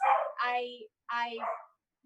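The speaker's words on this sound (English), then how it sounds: "I think she's literally just like barking" A small dog gives two soft, whiny, talking-like barks close by, each lasting under a second, with a short pause between them.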